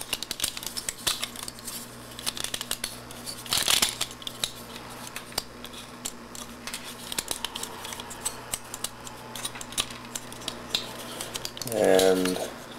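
Plastic Beast Megatron Transformers Robot Masters figure being transformed by hand: a run of small, sharp clicks and ratchety snaps as plastic parts rotate and lock, close up, with a louder handling burst near the end.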